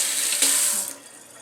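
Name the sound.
running tap water while washing hands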